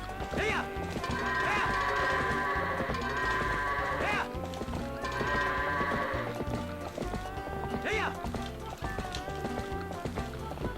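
Goats bleat in the video game Zelda: Twilight Princess during a goat-herding minigame, wavering cries rising over busy game music and hoofbeat-like clatter, with a few short calls scattered through.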